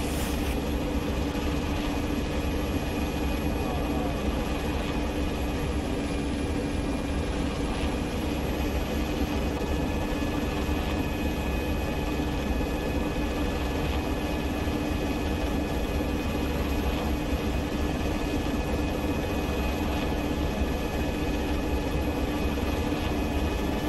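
Steady, loud engine roar of an aircraft making a flyby, holding a constant drone throughout with no clear rise or fade.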